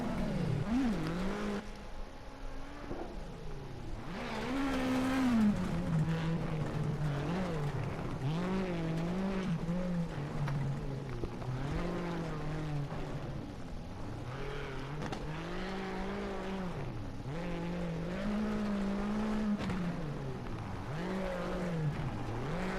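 A Ford Fiesta WRC rally car in WRC 8 revs hard on gravel, its engine rising and falling through repeated gear shifts and accelerations, with tire noise and loose-surface scrabbling throughout, close and continuous.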